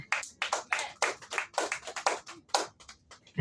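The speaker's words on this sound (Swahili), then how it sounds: "Pigia Yesu makofi." A church congregation claps for Jesus in quick, irregular bursts of sharp hand claps, close and lively, with no voices over them.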